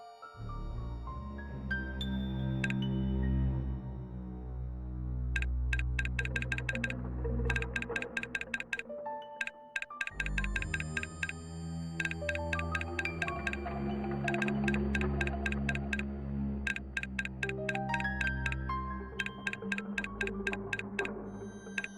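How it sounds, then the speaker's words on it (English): Steady clicking of a safe's combination dial turning in the game Runaway: A Road Adventure, small ticks repeating one after another over a layered, tonal game soundtrack. "I'll turn the dial slowly, number by number, so I don't miss the right one"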